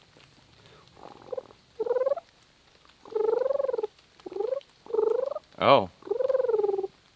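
A voice imitates soft turkey hen purring, a series of short rolling trills with brief pauses, one sharper call near the end.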